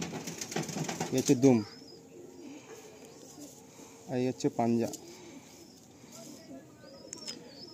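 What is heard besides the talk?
Madrasi pigeons cooing in a loft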